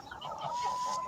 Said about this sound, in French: La petite oie de Guinée qui est là-bas.